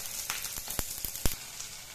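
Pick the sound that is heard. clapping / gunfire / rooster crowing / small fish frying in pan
small fish frying in pan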